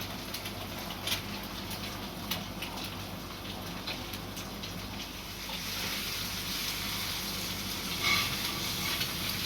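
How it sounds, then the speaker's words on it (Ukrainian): Steady sizzling and crackling of eggs frying in a pan, a constant close hiss with occasional small pops and clinks. "смажу ще яєчню"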